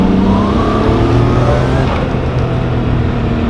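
A Nissan Skyline GTR on new wheels revs, its engine droning loud and close with rising and falling tones and a steady rumble throughout.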